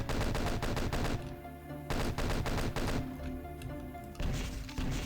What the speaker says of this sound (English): We'll just take the imps out with the chain gun.